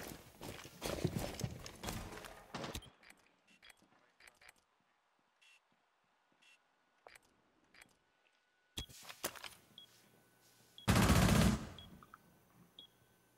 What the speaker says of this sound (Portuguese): Black Beast tomou tiro no pé agora